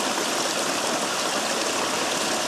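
Creek water flows steadily nearby, a dense, continuous rushing burble that stays loud and even throughout, with no voices over it.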